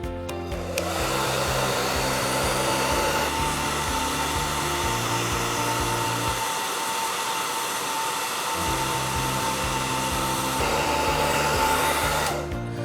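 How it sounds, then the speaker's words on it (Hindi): A hair dryer blows steadily and loudly throughout while floating two balls in its airstream for a physics demonstration of the Magnus effect, its drone briefly dipping in low tone midway before returning to full strength. "क्या मैं इस हेयर ड्रायर पर दो बॉल्स को फ्लोट कर सकता हूं?"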